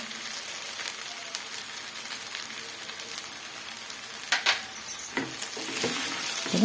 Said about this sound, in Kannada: ಜೀರಾ ರೈಸ್ಗೆ ಈ ಥರ ಪೆಪ್ಪರ್ ಪುಡಿ ಹಾಕ್ಕೊಂಡು ಈ ಥರ ನಾವು ಫ್ರೈ ಮಾಡ್ಕೊಂಡು ಸ್ವಲ್ಪ ಕಲಿಸ್ಕೊಬೇಕು